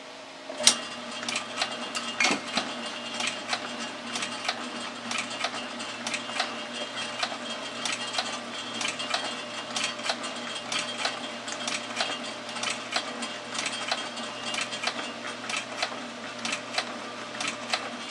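A barn-find Foley 3 61 automatic saw filer runs steadily on its own, a rapid, even mechanical ticking and clatter that stays at the same loudness throughout.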